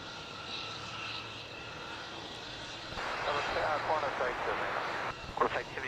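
An Air New Zealand A320neo from Queenstown lands on runway 16 at Melbourne Airport, a distant engine rumble that swells abruptly into louder roar and rushing noise partway through, with some talk mixed in.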